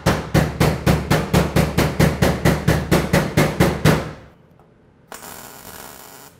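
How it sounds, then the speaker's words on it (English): A hammer beating on the metal floor pan of a Porsche 912 during floor pan welding work, about fifteen loud, evenly spaced ringing blows in quick rhythm, then a pause and a softer hiss. "There's a few areas in here that I need to beat on with a hammer a little bit before I can continue welding."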